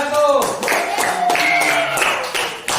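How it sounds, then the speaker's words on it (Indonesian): Classroom students clapping for a presenting group, a few scattered hand claps under a loud near voice and overlapping talk, brief and uneven. "Ya, tepuk tangan dulu untuk kelompok"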